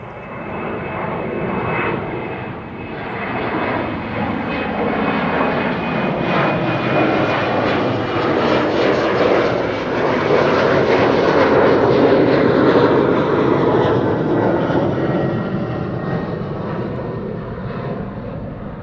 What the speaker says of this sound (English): This is KLM flight 1233 on its way to Göteborg. Embraer 190.